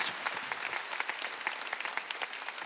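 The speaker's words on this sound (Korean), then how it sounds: "박수 치라" A church congregation at a Sunday worship service applauds together, a steady dense patter of clapping heard fairly close and alone.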